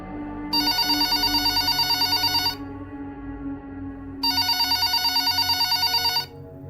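A telephone bell rings loudly in two long, rapid trilling bursts separated by a pause of nearly two seconds, close by, with no voices.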